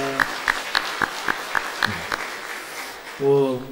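A church congregation at a Sunday service claps in an even rhythm of about eight crisp, spaced beats, and a voice follows briefly at the end.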